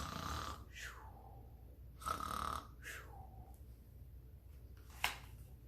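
Snoring told as part of a Spanish children's bedtime story, heard as three or four drawn-out rasping snores separated by quiet pauses, ending with a short snort.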